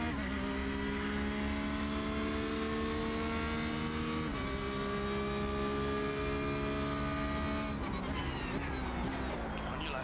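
Porsche GT3 race cars in iRacing at the Red Bull Ring, a steady, high-revving engine drone that holds its pitch and then drops at gear changes twice, with no talk.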